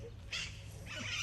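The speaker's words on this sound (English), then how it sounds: "The birds are praying with us." Two short, shrill parrot calls in quick succession, the second longer and rougher, with quiet background between them.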